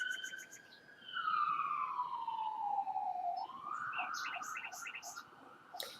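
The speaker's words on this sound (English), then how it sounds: "I apologize for the sirens." Emergency vehicle sirens wail, sweeping down and then up in pitch as they pass fairly close, with faint chirping sounds and traffic rumble beneath.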